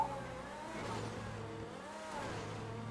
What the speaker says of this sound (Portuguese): o barulho desse carro ainda é impressionante